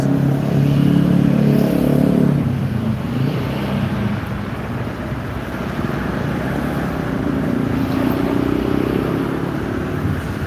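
Isuzu goods transport trucks roll past on a busy city road in Palembang, their loud, steady engine roar and tyre noise filling the scene, with one rumbling pass fading and another building up near the end.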